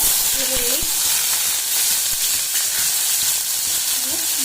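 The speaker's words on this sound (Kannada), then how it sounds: "ಸೊ ಎಣ್ಣೆ ಕಾದ್ಮೇಲೆ ಇದಕ್ಕೆ ಜೀರಿಗೆ ಹಾಕೋತಿದ್ದೀನಿ, ಆಮೇಲೆ ಈರುಳ್ಳಿ," Cumin seeds and onion fry in hot oil for a black-eyed bean sabzi, giving a steady, close sizzling hiss with faint scraping, while a voice speaks over it.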